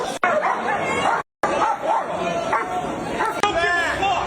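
Police dogs bark and yip repeatedly amid a chaotic, noisy crowd at a packed AP Swatch launch, with voices talking and shouting throughout and a brief dropout partway through.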